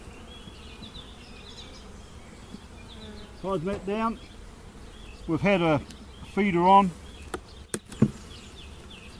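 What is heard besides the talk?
honey bees buzzing at an opened hive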